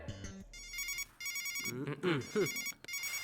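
A phone ringtone chimes in repeated electronic bursts while a person talks over it, fairly quiet overall.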